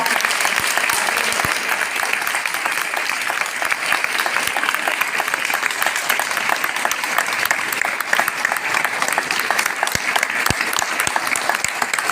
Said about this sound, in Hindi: आप सब जोरदार तालियों से